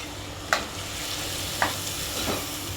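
Rinsed dal and rice sauté in a pan for pearl millet khichdi, a continuous close sizzle broken by three sharp spoon scrapes or taps against the pan.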